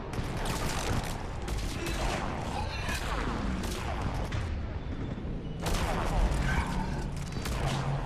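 Explosions and gunfire in the Mass Effect 3 video game, with dense bursts of shots and booming blasts in rapid succession, loud and continuous over the whole stretch.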